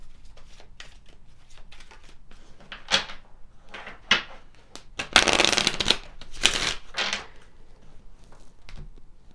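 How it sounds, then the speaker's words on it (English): Tarot cards are shuffled and pulled in short papery bursts of riffling and slapping, a few brisk flurries separated by quieter pauses, close up with no talking. "Let's pull some additional cards."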